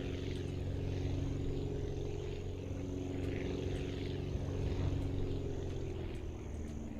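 Steady propeller-plane engine drone from the Aviassembly flight game, a continuous loud hum with layered engine tones holding throughout as the aircraft takes off, no voices.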